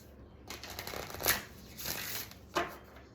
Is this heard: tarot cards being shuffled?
yes